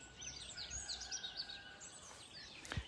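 Faint, distant birds chirping and twittering in a quiet forest at dawn, with a woodpecker somewhere, and a brief louder rustle near the end.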